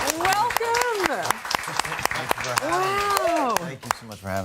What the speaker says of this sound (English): Big round of applause for these beautiful people.